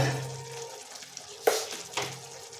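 Egg curry masala is stirred in a pan with a small spoon: a soft, low sizzle runs under a few sharp spoon scrapes and clinks, the loudest midway through.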